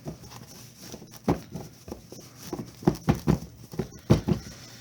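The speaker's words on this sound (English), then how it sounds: "Big old shuffle." A deck of Magic: The Gathering cards being shuffled during a Commander game, giving a series of soft riffled, pattering bursts that grow denser toward the end, close and fairly quiet, with no talking.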